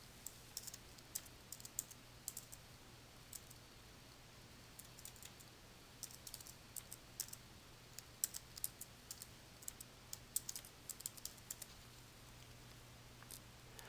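Rapid typing on a computer keyboard while entering an alert name into a software dialog box, soft irregular key clicks in quick bursts over a steady low hum, no talking.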